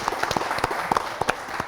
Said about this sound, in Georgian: გამამხნევებელი აპლოდისმენტები გუნდებს